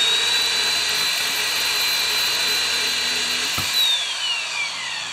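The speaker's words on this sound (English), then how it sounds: "I've resorted back to my sander again" A power sander grinds steadily against a tool clamped sideways in a vise, a loud continuous whine holding throughout with a brief dip near the end and no talk.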